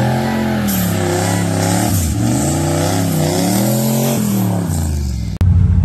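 A Foxbody Mustang with a side-exit 304 stainless exhaust revs hard through second gear, the engine note climbing and dipping in several loud sweeps, close by and without talk, ending with an abrupt cut.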